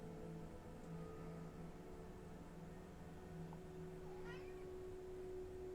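A cat gives a few soft meows in a quiet room, faint and intermittent over a low steady hum.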